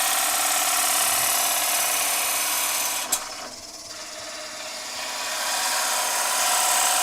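A drill bit bores into wood on a woodturning lathe, a steady, loud whirring grind that dips and quiets briefly after a sharp click midway, then builds back to full strength.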